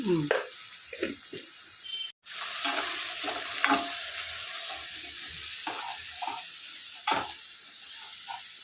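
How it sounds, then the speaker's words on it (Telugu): Chicken pieces hit hot oil with tempering and spices and sizzle steadily, with occasional stirring clinks and a brief pause midway. "చికెన్ ముక్కలు అందులో వేసేస్తున్నాం తాలింపులో"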